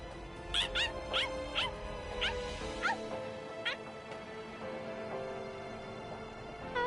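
A dog in the Bleach Rebirth of Souls video game lets out a quick run of sharp yips and barks near the start, then falls quieter with a few whimpering notes.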